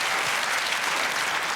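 Studio audience applauding on a British comedy panel show, a steady dense wash of clapping that fills the whole short stretch at even loudness without a break.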